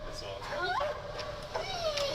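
A dog gives faint, brief yips and whimpering barks at a distance, mixed in with people talking nearby.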